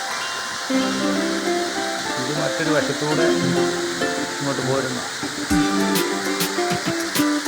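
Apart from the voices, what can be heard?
waterfall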